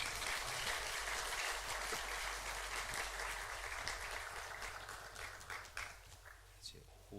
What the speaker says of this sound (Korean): 인사하고 들어갈 때 크게 박수 한번 하십시다.